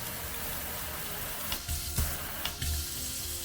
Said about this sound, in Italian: con 3 diversi flussi d'acqua così nebulizzata